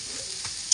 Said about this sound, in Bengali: এই যে বসিয়ে দিয়েছি পেঁয়াজ কারি আলু ভাজাটা